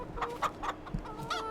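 Chickens cluck in Farming Simulator 22, a handful of short clucks at a quiet, moderate level, spaced irregularly over a soft background.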